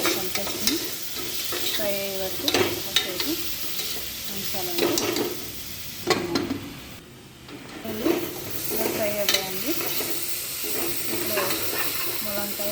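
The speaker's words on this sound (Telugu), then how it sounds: "ఏ కూరలో అయినా ఉల్లిపాయలు ఇలాగా వేయించుకుంటే బాగుంటుంది కొద్దిగా పసుపు కూడా వేస్తున్నాను సాల్ట్ కూడా వేస్తున్నాను" Sliced onions fry with turmeric and salt for a drumstick and coconut curry, stirred steadily so a continuous sizzle runs under repeated scraping and clinking of the spoon against the pan throughout.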